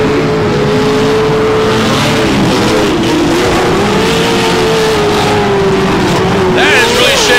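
A Pro2 short course race truck at Glen Helen Raceway, its engine droning loudly and steadily with shifting pitch, with wind and crowd noise in the background.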